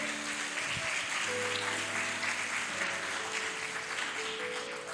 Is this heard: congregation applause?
yes